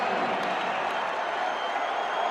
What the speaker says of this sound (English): Listen to the pit crowd. A little celebration time.